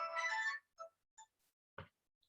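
A phone ringtone plays faintly: a short bright melodic burst followed by a few sparse, quiet tones and a brief click, with no talking.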